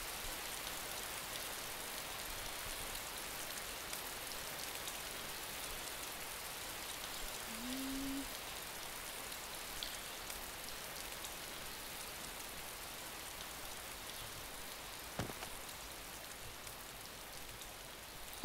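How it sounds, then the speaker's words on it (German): Steady rain falls in the survival video game DayZ, a faint, even hiss of drops on surfaces running without pause and with no talk over it. "Aber es regnet noch."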